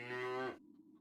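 A cow in The Whispered World video game lets out a single short, close moo that stops abruptly, followed by quiet.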